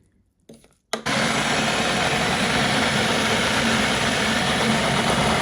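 After a second of quiet and a few small knocks, an electric blender starts up and whirs loudly and steadily at a constant pitch.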